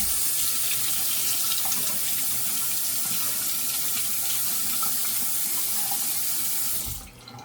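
Steady rush of tap water running into a sink for a rinse, loud and continuous, cutting off abruptly near the end.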